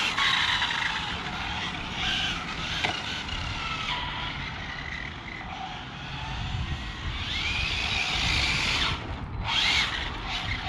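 An Arrma Infraction RC car drives past with a high electric motor whine that rises and falls, with brief tyre skids and surges toward the end, heard with no talk.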